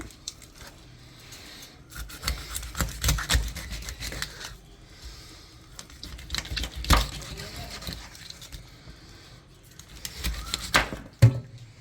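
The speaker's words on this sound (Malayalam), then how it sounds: "തല അങ്ങ് ചേർത്ത് വെട്ടിക്കളയണം" A knife chops the head off a dried fish at home, giving a few sharp, close cutting thuds amid quieter rustling and scraping, with a voice talking at times.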